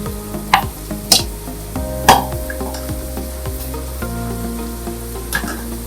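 Potatoes dropped into hot oil and stirred, a close, loud sizzle with a few sharp scraping bursts from the stirring, settling into a steady frying hiss.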